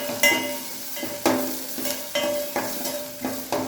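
Capsicum sautéing with garlic and ginger in a pan for Manchow soup: a steady close sizzle with sharp scraping stirs recurring every second or so, no talk.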